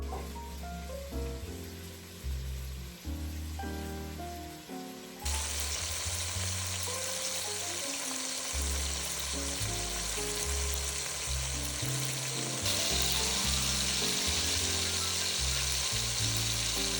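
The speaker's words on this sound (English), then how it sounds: "you're going to brown the lamb in batches, making sure to not overcrowd the pan" Lamb pieces brown in a stew pot, a steady crackling sizzle that grows denser and louder as more meat goes in, with occasional clinks and scrapes against the pot.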